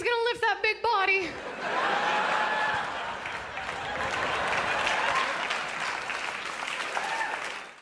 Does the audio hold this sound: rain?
no